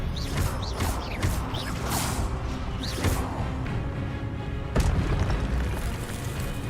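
A spell being cast in the Hogwarts Legacy video game, heard as a dense, loud run of magical booms, bursts and swooshes, with a sharp impact near the end over a steady game soundscape.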